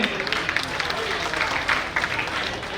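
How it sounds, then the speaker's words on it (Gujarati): Audience applause for students at a community family gathering in Rajkot, Gujarat, a steady dense patter of many hands clapping that stays even and fairly close for the whole stretch. "આપણે દરેક વિદ્યાર્થીઓને જોરદાર તાળીઓથી વધાવીએ."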